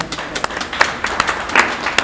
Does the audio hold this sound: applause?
yes